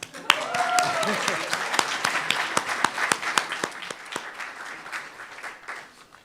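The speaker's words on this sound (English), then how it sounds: "Now you can applaud." Audience at a church service gives a scattered round of applause, individual claps distinct and fading over several seconds, with voices speaking over it.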